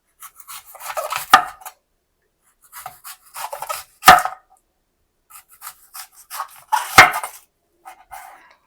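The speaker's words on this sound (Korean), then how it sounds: "그냥 이 양파가 이렇게 서 있는 모습일 때 얘를 이렇게 돌려서 이 방향으로 잘라주시면 되거든요" Onion being sliced with a kitchen knife on a board, three distinct crisp cutting strokes spaced a few seconds apart, each a short crunchy scrape ending in a sharp knock, close and clear with no talking.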